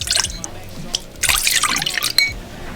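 Soy sauce, water and sugar are poured into a mixing bowl, giving a close, uneven trickle and splash of liquid in short bursts with small drips between.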